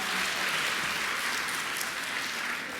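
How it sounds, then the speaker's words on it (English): A round of applause from a high school awards night crowd, moderately loud and uniform, with a few sharper claps standing out as it tapers slightly near the close. "Big round of applause for Mr."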